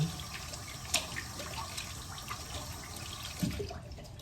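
Water runs steadily from a sink tap while someone washes their face, a continuous hiss with a couple of brief splashes, fairly close and moderately quiet, with no talking.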